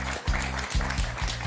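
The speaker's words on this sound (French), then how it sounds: "On applaudit encore Yann pour ce magnifique 4 à la suite." A television quiz show studio audience applauds a contestant, with dense, steady clapping holding at an even level across a brief stretch and rhythmic pulses in the low end beneath it.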